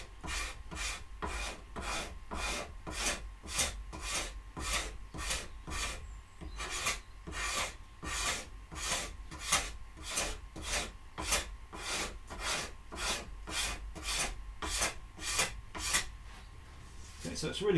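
A hand scraper works across wood stock for a pallet tool chest in steady, rhythmic rasping strokes, roughly one per second, close and distinct, continuing without pause through the whole stretch.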